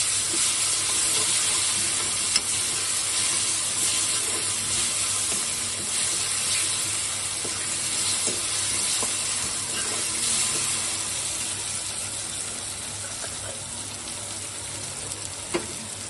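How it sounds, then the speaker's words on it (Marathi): Ginger garlic paste sautéing with fried onion in a pan for keema masala produces a constant, even frying sizzle with faint occasional stirring scrapes, steady and close, with no talking. "त्यामध्ये मी 1 चमचा आलं लसणाची पेस्ट टाकणार आहे, कारण परत आपल्याला त्याला परतून घ्यायचं आहे"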